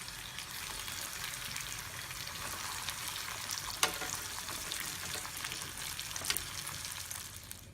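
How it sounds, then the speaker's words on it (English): Mutton pieces frying in oil make a continuous, even hiss and bubbling crackle up close, broken by a couple of sharp pops and small clinks, with no one talking. "we have to fry the pieces till they looks like this"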